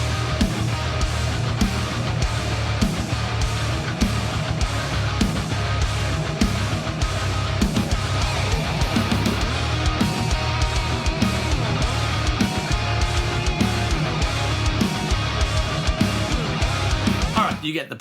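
A full band song demo, dense and loud, plays continuously from a Cubase project with guitars, steady drums and bass, ending abruptly.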